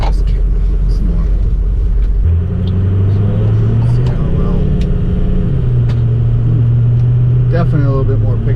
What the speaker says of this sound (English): I was about halfway into the throttle there.